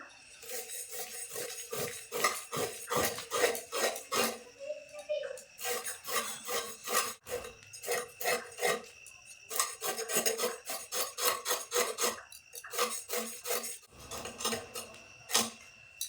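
A knife scrapes scales off a Rupchanda pomfret fish in rapid, repeated rasping strokes that come in bursts with brief pauses, close and fairly loud.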